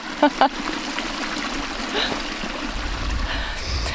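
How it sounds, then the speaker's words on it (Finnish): Water running along a hiking trail in Lapland that has turned into a stream, giving a steady rushing trickle throughout, with a couple of brief vocal sounds near the start. "polut ovat muuttuneet puroiksi"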